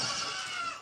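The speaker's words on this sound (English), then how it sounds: "Come on, billy goats!" Billy goats on a farm bleating in a short, continuous nasal cry that stays fairly loud and close, with no talking over it.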